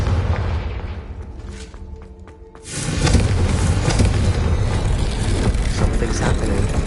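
A Confringo explosive spell blast in Hogwarts Legacy erupts after a quieter lull into a loud, sustained roaring burst of noise that fills the scene.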